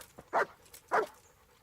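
A dog in the video game Kingdom Come: Deliverance gives two short, close barks about half a second apart.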